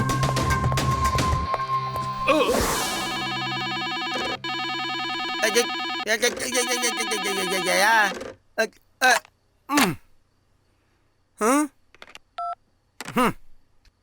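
A telephone rings with a run of electronic tones and dial beeps. The tones are loud and close for several seconds, then cut off and give way to short bursts of talk.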